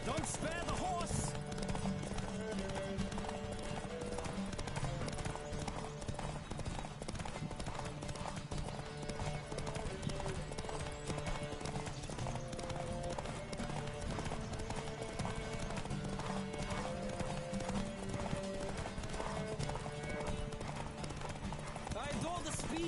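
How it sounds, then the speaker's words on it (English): Rapid hoofbeats of a horse galloping in a race in The Witcher 3: Wild Hunt, a steady clip-clop running throughout alongside game music, with voices speaking over it. "Don't spare the horse!"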